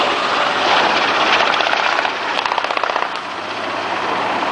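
A military helicopter lands with troops during a display at an RAF families day, its loud rotor roar steady and close, with rapid blade chopping rising and fading throughout.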